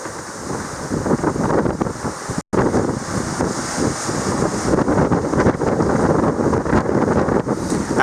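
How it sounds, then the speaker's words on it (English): Strong wind of about 30 knots roars over the open sea in the Mozambique Channel aboard a sailboat, with a continuous loud rush of wind on the microphone and waves washing beneath, and no one talking. "I think these winds are up around 30 knots"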